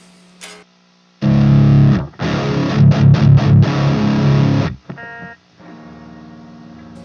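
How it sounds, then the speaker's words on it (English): A distorted guitar amp with a noisy effects loop, loud chugging chords and staccato stabs over about three seconds, bracketed by a steady buzzing hiss that lingers while the playing stops. "Let's go ahead and turn this on so you can hear the amp"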